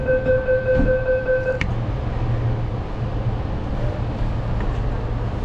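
Steady low rumble of a driverless Sydney Metro train rolling along, with a brief high tone near the start and an even hum throughout.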